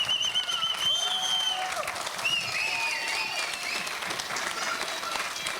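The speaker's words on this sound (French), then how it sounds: "applaudissez-les!" Audience applause for the organizers at the closing of a driftwood festival, a sustained crowd clapping under an amplified voice speaking, with faint tonal whistles above.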